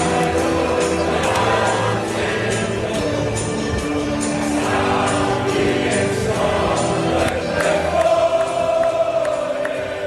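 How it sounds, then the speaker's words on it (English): Tartan Army football fans singing together as a dense crowd at Fenway Park in Boston, a steady, broad wash of massed voices holding a sustained tune throughout, with no single voice standing out. "It's a crowd."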